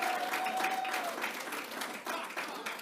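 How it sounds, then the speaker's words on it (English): A small room of club members claps at a Toastmasters meeting, brisk uneven clapping that stays moderately loud throughout, with a brief whistle-like tone early on. "Let's give him a round of applause."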